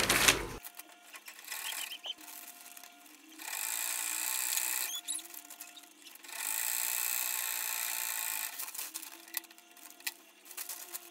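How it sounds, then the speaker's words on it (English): Sewing machine top stitching Ankara fabric, two sustained runs of steady mechanical whirring separated by quieter pauses with small clicks and handling sounds, close and alone. "So I'll just start sewing here"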